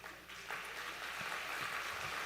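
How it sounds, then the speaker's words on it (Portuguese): A church congregation claps loudly and steadily during a worship service, a dense, continuous wash of applause that swells after a brief softer start and holds for about two seconds. "Aplauda bem forte ao Senhor."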